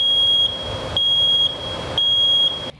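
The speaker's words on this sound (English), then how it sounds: "kids were struggling to wake up to the normal beep of a normal smoke alarm" A loud, shrill electronic smoke alarm beeps in regular pulses, three long high-pitched tones evenly spaced, close and piercing.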